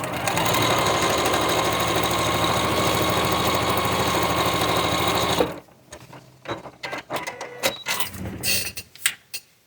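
A sewing machine stitches pinned fabric pieces from a Legit Kits project, running steadily and loudly for about five seconds before stopping, followed by quieter scattered handling clicks and rustles.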